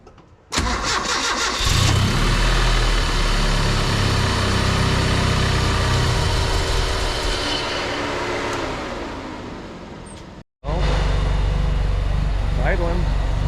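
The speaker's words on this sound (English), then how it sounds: "Idling" A 1978 Datsun 620 4x4 truck with a KA24E engine fires up and idles loudly close by after head gasket work, the revs settling gradually before a brief cut and restart.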